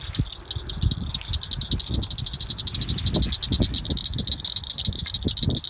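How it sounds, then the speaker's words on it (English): Frogs calling from muddy water at a fishing spot, a rapid rattling chorus pulsing continuously alongside low thumps and splashy noise, with no talking. "Frogs are protesting."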